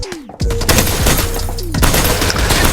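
Rapid semi-automatic gunfire crackles in the mobile shooter PUBG New State, loud and close, with sharp repeated shots over game effects and a brief lull near the start.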